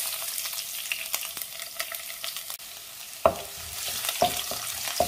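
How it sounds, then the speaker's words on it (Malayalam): Curry leaves and chopped garlic fry in hot coconut oil for a Kuttanadan duck curry, a steady close sizzle with sharp crackles and spoon scrapes growing busier near the end; no talking. "വെളിച്ചെണ്ണ ചൂടായി, അതിലേക്ക് കറിവേപ്പില ചേർക്കാം. അതിൻ്റെ കൂടെ തന്നെ വെളുത്തുള്ളി അരിഞ്ഞതും ചേർക്കാം."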